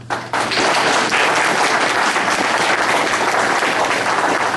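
Loud, sustained audience applause fills a candidates forum hall, dense clapping from many hands starting abruptly and continuing steadily without talk.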